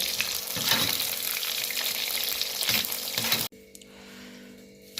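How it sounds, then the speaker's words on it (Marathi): Food frying in oil at a roadside dhaba kitchen, a loud, close, steady sizzle that suddenly drops to a quieter, softer bubbling near the end. "आता हे तळून घेते"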